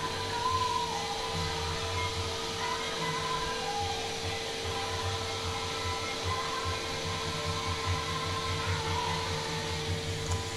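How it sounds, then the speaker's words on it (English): A vacuum cleaner runs steadily in a home, a continuous whooshing drone with a low hum underneath, at moderate distance and unbroken for the whole stretch with no talking. "And she's vacuuming."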